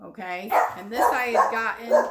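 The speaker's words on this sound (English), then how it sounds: "I apologize for the dog barking." Dog barking indoors in a home, several sharp yips and barks in quick succession, close and loud, mixed with someone talking over them.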